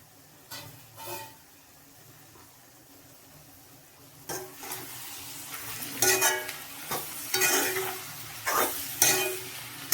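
Chicken curry masala fries in a pan and is stirred with a spatula: quiet at first, then repeated scraping strokes grow louder and more frequent over a light sizzle, close by.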